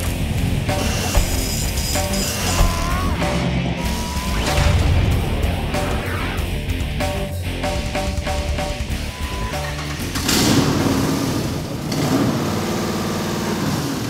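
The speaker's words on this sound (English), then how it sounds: "that is the sound of the Hemi that we stuffed underneath the hood of our 2003 Jeep TJ" A Hemi V8 engine fitted in a 2003 Jeep TJ idles and revs close by, its throaty rumble rising and falling through several throttle blips, with no talking.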